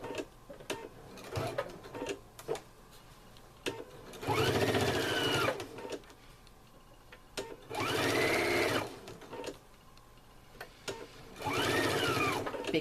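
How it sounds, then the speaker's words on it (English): A sewing machine back-stitches bias tape onto fabric for a clothes pin bag, running in three loud mechanical bursts of rapid stitching separated by quieter ticking and handling, close up. "I'm going to back stitch there"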